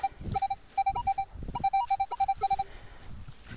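A Minelab Equinox 800 metal detector beeps out a rapid run of short, repeated electronic target tones while sweeping a park for coins, with soft rustling and scuffing in the background.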